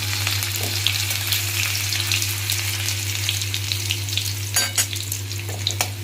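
Cumin seeds, a dried red chili and chopped ginger sizzle steadily in hot oil for a bhindi dish, a loud continuous close frying hiss with occasional stirring scrapes and no talk.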